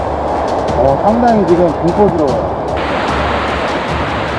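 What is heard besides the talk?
strong wind blowing at seaside campsite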